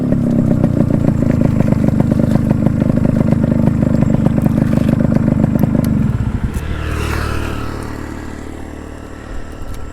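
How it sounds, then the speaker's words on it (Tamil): A Yamaha RX 100 motorcycle engine runs loud and close, with a throbbing, rattly drone for about six seconds before it settles into a lower, quieter idle. "இதுதாங்க நம்ம RX 100. பக்கா RX 100, எந்த ஒரு சேஞ்சஸும் இல்லை"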